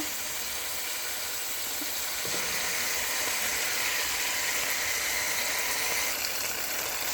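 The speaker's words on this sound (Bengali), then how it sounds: "টমেটো দিয়ে আমি 3-4 মিনিটসের মতো অনিয়নের সঙ্গে এভাবে ফ্রাই করব।" Tomatoes frying with onions in a pan give a steady, close sizzling hiss that runs unbroken throughout, with no voices over it.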